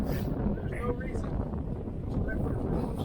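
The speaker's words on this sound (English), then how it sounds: "it's gusting 20 plus here." Steady, rumbling wind, gusting over 20, buffets the microphone on a sailboat in Santa Monica Bay during Santa Ana conditions, with a dense low roar; faint voices can be heard beneath the gusting noise.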